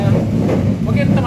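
Steady, loud rumble inside a stainless steel Serayu passenger train rounding a curve, with a faint metallic squeal rising briefly near the end.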